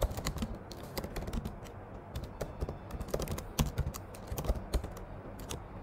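Clicky computer keyboard keys typed in quick, uneven bursts as a command is entered into a terminal, close and fairly loud, with no talking.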